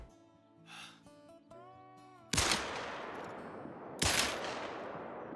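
Two loud rifle shots fired at a deer in the hunting game Call of the Wild, each a sharp crack with a long decaying tail, the first coming after a stretch of faint tonal game music.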